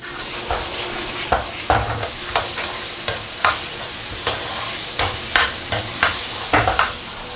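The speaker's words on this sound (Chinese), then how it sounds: "接下来下入青豆，大火给它翻炒一下" Green peas are tossed in a hot wok over high heat with garlic and ginger, a constant sizzle broken by regular scraping spatula strokes about twice a second, close and clear.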